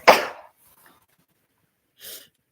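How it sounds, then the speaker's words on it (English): A single loud, close sneeze bursts out, followed by silence and then a softer sniff or breath. "I'm gonna sneeze."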